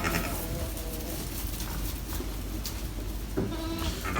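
Sheep bleat a few times over steady, noisy background hum, the calls wavering and moderately close.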